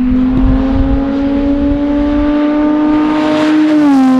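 A straight-piped Porsche 911 GT3 992 from Friedrich Performance Manufaktur pulls hard out of a corner, its loud, close engine holding a raspy, sustained howl that climbs slightly in pitch before the note dips and changes at the end.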